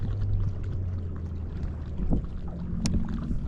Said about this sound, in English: There's a boat driving by, so I'm not swinging them in yet until this boat goes